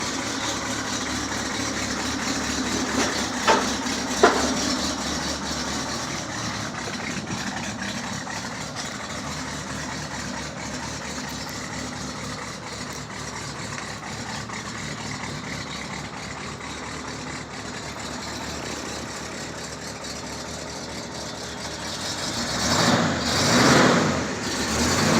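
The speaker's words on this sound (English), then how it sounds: "Wonderful exhaust note." A cammed Chevrolet L78 402 big-block V8 fitted in a 1976 Jaguar XJS idles steadily with a rumbling exhaust note, a few sharp blips early on and a louder rev swell near the end.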